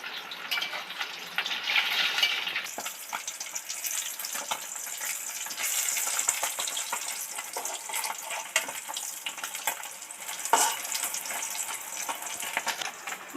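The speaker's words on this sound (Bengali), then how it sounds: "মাছগুলো তো একদিকে ভাজা হয়ে গেছে, আর একদিকে সুন্দর করে আস্তে আস্তে উল্টে দিচ্ছি" Bata fish fries in a pan with a steady, close hiss of sizzling oil as the pieces are gently flipped, adding soft scrapes and brief crackles over the continuous bubbling.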